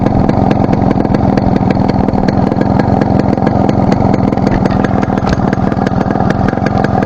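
A Yamaha RX 100 motorcycle from the nineties idles up close, its engine loud with a rapid, steady, throbbing exhaust beat that runs through the whole stretch with no talking.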